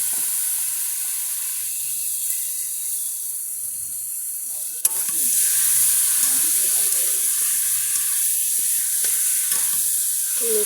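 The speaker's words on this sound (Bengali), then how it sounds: "মাংসটা এবার কড়াইয়ের মধ্যে ছেড়ে দিই।" Meat is dropped into a hot wok: a quiet, steady hiss gives way at about five seconds to a sudden, louder sizzle that keeps crackling and spitting close up, with occasional stirring and faint voices underneath.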